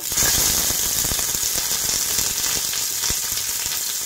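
Eggplant and broad beans rubbed with a little salt frying in hot oil, a loud continuous sizzle with small crackles and pops, close up and steady throughout with no talking.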